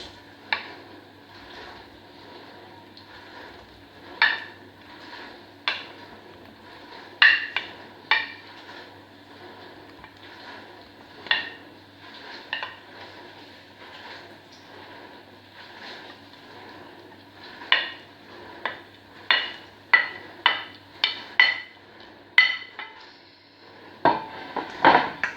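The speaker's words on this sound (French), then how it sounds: "Dans le saladier, on va mélanger les pommes de terre, les courgettes," Potatoes and courgettes tossed together in a salad bowl for a vitamin-rich vegetable gratin, giving a run of irregular clinks and scrapes of utensils against the bowl, sparse at first and quickening toward the end.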